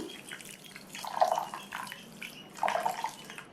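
Water poured onto semolina in a mixing bowl gives soft, close splashing and trickling in two swelling bursts, quiet overall with no talking.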